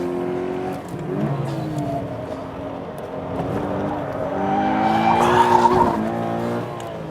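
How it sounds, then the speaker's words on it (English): Toyota GT86 on a fast race-track lap, engine note rising and falling through gear changes with tyre squeal and skidding, loud and close from onboard, no talk. "that is my flying lap in the GT86"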